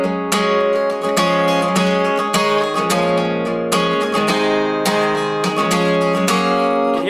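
Guitar strumming a pushed-eighth rhythm through the pre-chorus of a worship song, with chords landing early; loud, full and continuous, played alone with brief accented breaks.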